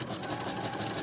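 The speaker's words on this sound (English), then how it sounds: "So I'm switching back over to this wide zigzag stitch." A sewing machine runs a wide zigzag stitch on knit joggers, giving a steady, close mechanical whir that holds without a break for the whole moment.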